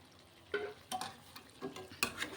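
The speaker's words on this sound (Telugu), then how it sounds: "ఒక్క నిమిషం అలాగా ఫ్రై అయితే సరిపోతుంది" Masala spice powders, including garam masala, coriander and cumin powder, fry in a pan and get stirred a few times. Soft scraping strokes sit over a faint sizzle, close and quiet.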